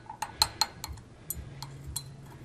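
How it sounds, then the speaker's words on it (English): A glass stirring rod gently mixes silver crystals in a laboratory beaker, giving a series of faint, sparse glassy clinks and taps at irregular intervals. "Use our stirring rod to mix that up ever so gently."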